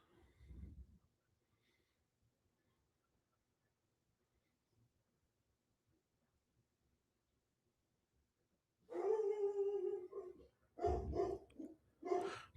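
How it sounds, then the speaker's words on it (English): A dog barks and whines indoors in a few loud, close bursts near the end, after a short low sound at the start and a long quiet stretch. "Apologize if you hear my dog."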